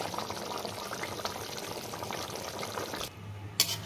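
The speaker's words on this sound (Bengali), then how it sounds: "একটু ঘি দিয়ে দিচ্ছি উপর থেকে" Ghee poured from above onto a simmering soybean kofta curry, a soft continuous hiss and bubbling that drops away suddenly, followed by a single faint clink.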